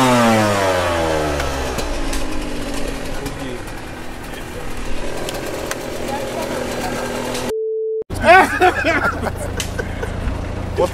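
A motorcycle engine revs and winds down up close, its droning pitch sweeping, while voices chatter in the background; a brief steady electronic tone cuts in near the end before the engine roars again.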